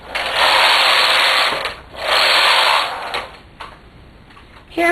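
Knitting machine with ribber carriage swept back and forth for circular knitting, a loud whirring rasp in two long passes, then quieter clicks and a short final burst.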